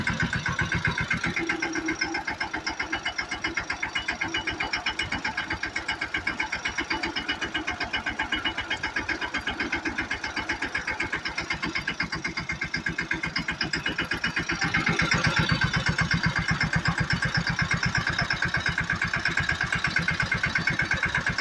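A tractor engine chugs steadily at close range with a fast, even rhythmic thumping that grows slightly louder toward the end.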